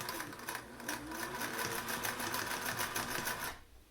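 Sewing machine stitching fabric for a home-sewn face mask, a steady fast rapid mechanical whirring run lasting about three and a half seconds before stopping, close and alone with no talk.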